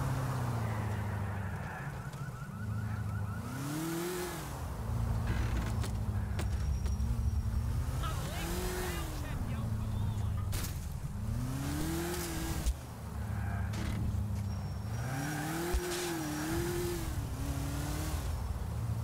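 Car driving in the video game GTA IV, its engine droning close and loud and rising and falling through repeated revs and gear shifts, with the odd bump and no talking.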